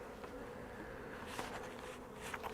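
Honeybees buzzing around brood box hive frames during an early spring inspection, a dense close hum with louder passes as bees fly near.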